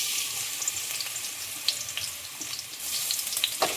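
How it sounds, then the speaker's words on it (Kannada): Crushed garlic fries in hot oil in a pan, giving a steady, bright crackling sizzle with scattered sharper pops throughout, close and fairly loud with no talk. "ಬೆಳ್ಳುಳ್ಳಿ ಸ್ವಲ್ಪ ಫ್ರೈ ಆಗಬೇಕು"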